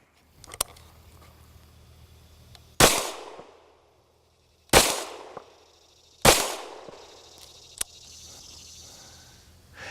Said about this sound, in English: First time shooting it with the Right-On red dot.